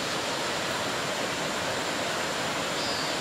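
A mountain stream in rocky terraced highland country of Mù Cang Chải, northern Vietnam, rushes steadily as a loud, close, continuous broadband wash of water with no voices over it.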